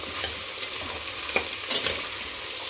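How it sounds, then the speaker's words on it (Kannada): Vegetables with field beans and peas fry in a pan for pulao. A constant bright sizzle runs underneath, and a few stirring scrapes and clinks stand out near the middle. No one speaks. "ಎಲ್ಲನೂ ಚೆನ್ನಾಗಿ ಫ್ರೈ ಮಾಡ್ಕೊಬೇಕೀಗ."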